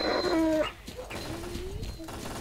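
Dog whimpering in the video game S.T.A.L.K.E.R.: Clear Sky, a few short, thin whines and yelps set against game ambience and muffled gunfire-like thumps, moderately close.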